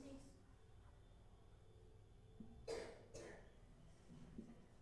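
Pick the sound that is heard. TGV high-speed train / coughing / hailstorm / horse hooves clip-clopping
coughing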